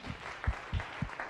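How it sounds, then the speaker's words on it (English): Scattered claps from a science café audience at a talk on flu pandemic preparedness, a few distinct hand claps in a sparse, uneven rhythm, fairly faint and brief. "Let's give him a round of applause."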